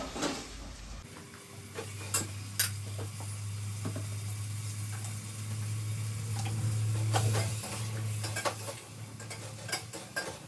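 Vegetables sizzle loudly as they are tempered in hot oil with a steady hiss, while spoons and pans clink and scrape now and then.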